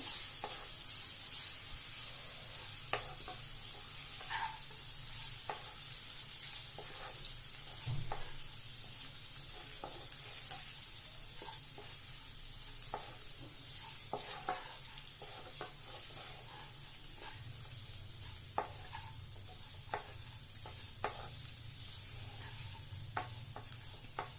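Chopped boiled eggs fry for spicy egg sukka in a pan, with a steady soft sizzle and scattered scraping clicks of a spoon stirring throughout.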